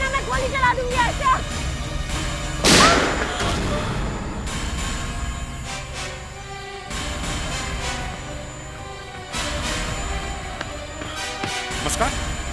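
A single sharp, loud gunshot cracks out early in a tense police chase scene, set among footsteps, knocks and clattering movement.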